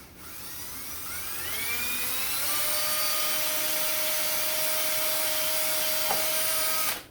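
A drill bores into a broken float post on the carburetor of a 1978 Yamaha XS1100, a steady whirring whine that rises in pitch and then holds, close and alone.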